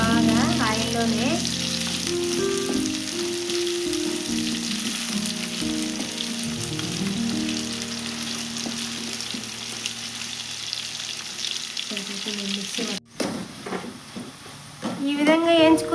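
Bitter gourd slices fry in plenty of oil for a crispy Telugu-style fry. A continuous sizzle runs throughout, close and fairly loud, with some tonal kitchen noise mixed in and a brief burst of movement near the end.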